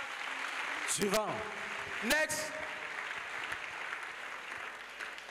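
Audience applause at an evangelism crusade forms a steady background of clapping, with a few sharp bursts and brief voices rising over it near the start.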